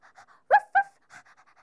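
A dog pants in a quick run of short breaths, clean and close with no background, two stronger huffs in the middle and lighter ones trailing after.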